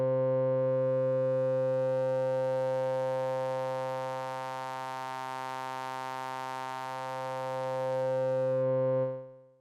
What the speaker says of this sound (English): here is just a simple saw wave getting morphed between the two filters